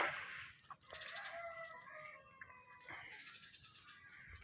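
Faint clucking and a distant rooster crow from chickens in a flooded coop, with some soft background noise.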